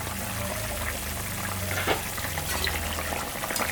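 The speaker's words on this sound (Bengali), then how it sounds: "ঝোলটা হয়ে গেছে, ফুটে গেছে" Fish curry broth simmering in an uncovered pot on the stove, a low continuous bubbling and faint sizzle, steady and fairly quiet with no talking.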